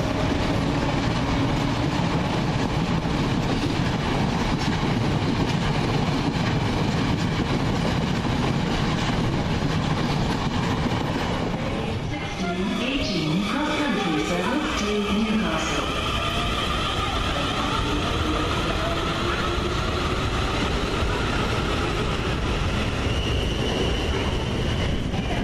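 A London Underground Central line train rumbles loudly and steadily as it runs, with a loud hum and rattle throughout. A brief tonal whine rises partway through, and a quiet announcement is heard.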